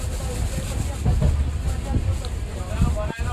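An Indian Railways train rumbles along on a journey from Mumbai to Madhya Pradesh, a steady loud low roar with rhythmic clatter and knocks, with faint voices in the carriage.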